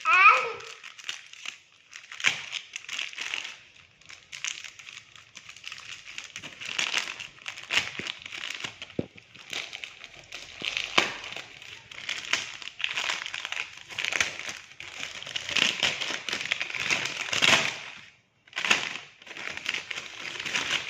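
Plastic covers are crinkled and torn open in close, continuous rustling bursts, while a small child babbles and an adult talks nearby.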